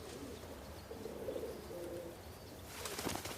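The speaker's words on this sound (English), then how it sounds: "A flock of pigeons, from our perspective." A flock of pigeons coos softly at a distance, with low murmuring calls and a brief burst of wing flapping near the end.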